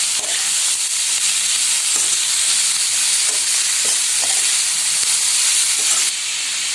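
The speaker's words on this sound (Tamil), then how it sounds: "கோஸ் சேர்த்து நல்லா கலந்து விட்டுடலாம்" Cabbage stir-fried with carrot and beans for chicken fried rice, a loud, dense, continuous sizzle with faint scraping stirs underneath, close and unbroken until a slight drop just before the end.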